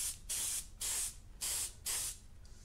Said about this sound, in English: people that have one of these, they can just use the airbrush